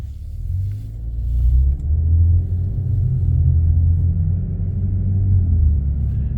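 Infiniti Q50 in eco mode pulling away from a traffic light, heard from inside as a steady low engine rumble that swells as the car accelerates and settles into an even drone.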